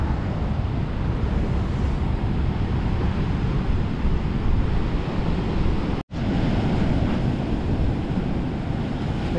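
Ocean waves wash onto the beach beside a seaside dock, a continuous loud surf roar with heavy wind buffeting the microphone and a brief dropout partway through.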